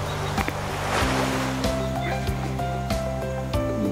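Ocean water washes steadily against the shore at dusk, a continuous close surf with a broad, even wash throughout.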